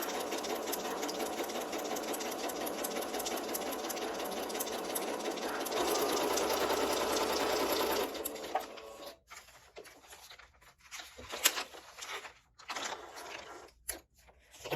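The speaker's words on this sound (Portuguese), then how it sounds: "aqui eu vou fazer uma costura em zigue-zague para vocês verem como é o zigue-zague" A domestic sewing machine stitches a zigzag seam in a steady, loud mechanical whir for about eight seconds, then slows into short bursts and separate needle thumps with pauses between them.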